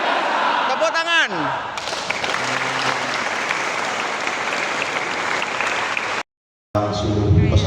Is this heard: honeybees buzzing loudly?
no